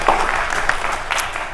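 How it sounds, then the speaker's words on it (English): Brief burst of clapping from attendees at an Orlando city council meeting, honoring the mayor, fairly loud and close, lasting under two seconds. "let's give the Mayor a round of applause"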